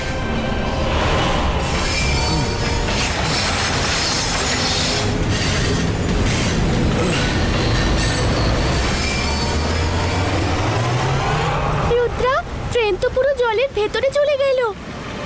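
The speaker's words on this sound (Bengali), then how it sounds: "যে কোনো ভাবে ট্রেনটা এদিকে আসা আটকাও" A train approaches with loud rumbling, wheel squeal and rail clatter building steadily, then voices speak over it near the end.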